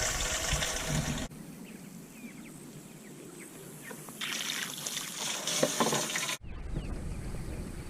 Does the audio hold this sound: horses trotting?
no